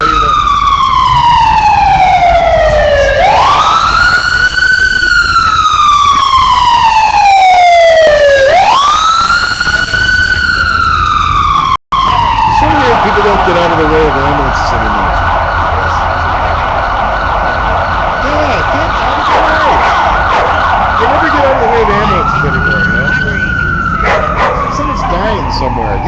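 Ambulance siren on a downtown Los Angeles street, loud and close, rising and falling in long wails before shifting to a rapid yelp and back to a wail, with a dog barking and a voice speaking.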